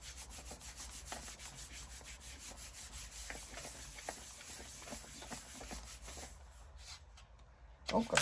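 Paper rubbed by hand to make junk journal background sheets, a steady scuffing and rubbing texture with repeated strokes throughout, moderately quiet, ending in a brief louder crinkle.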